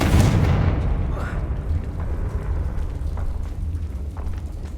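Confringo fire-blast spell in Hogwarts Legacy, a loud, dense boom that swells at once and rolls into a sustained, rumbling roar lasting several seconds.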